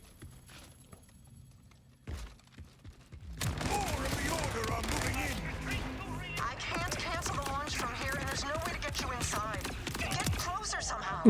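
Rapid bursts of weapon fire in Borderlands 4, thought to be rockets launching, a dense crackling barrage that kicks in after a quiet start and continues loud with a voice talking over it.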